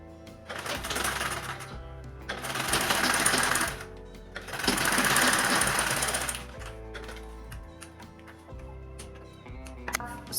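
A sewing machine stitches bag main body panels together at the base with a half-inch seam, in two long bursts of rapid mechanical chatter separated by short pauses, then lighter ticking and handling noises.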